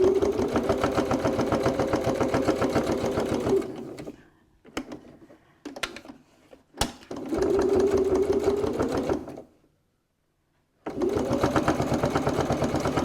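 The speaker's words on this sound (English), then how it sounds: "So we'll just top stitch this down." A sewing machine runs in fast, even bursts while top stitching a fabric wallet, its rapid needle clatter stopping and restarting with short pauses and small clicks between runs.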